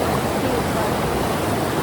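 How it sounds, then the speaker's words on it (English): A creek runs high and fast, water ripping past in a steady, dense roar that fills the whole stretch with no breaks; no voices are heard. "the creek way up there, ripping."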